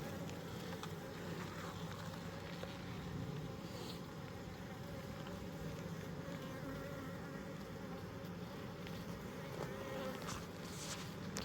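Honeybees hum in a dense, steady drone throughout while a hive frame full of brood is lifted and inspected, the buzzing close and continuous with no talk.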